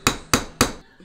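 Three crisp, evenly spaced taps of a light hammer knocking a wheel onto an axle, each a short bright strike close by with no other sound.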